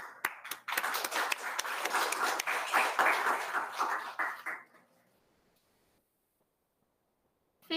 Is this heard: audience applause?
yes